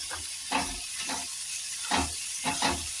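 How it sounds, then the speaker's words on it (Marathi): Chopped onion, tomatoes and curry leaves sauté in a hot pan for a Marathi-style dry moong dal dish, giving a steady close sizzle broken by bursts of stirring and scraping, with no voices. "आता कांदा परतून घेतल्या याच्यात मी टमाटे घेतले टमाटे टाकूया आणि हा कढीपत्ता हे पण असं मिक्स करून घेऊ"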